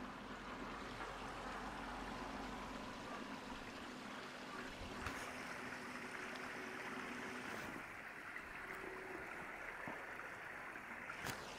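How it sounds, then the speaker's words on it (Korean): A mountain stream trickles and babbles steadily behind a farm hut in a valley about 650 m above sea level, a continuous soft rushing wash of water with no voices. "기분 좋은 물소리가 들리네요."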